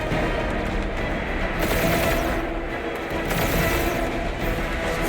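Sustained gunfire and combat noise from Marvel's Guardians of the Galaxy video game, a dense continuous barrage of shots and mechanical clatter with no pauses, steady and loud throughout.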